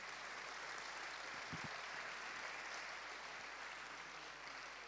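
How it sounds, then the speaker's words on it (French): A conference audience claps for panelists after a plenary session on solar energy, a steady, even, fairly distant patter of applause filling the whole stretch at low level. "On peut les applaudir pour leur intervention."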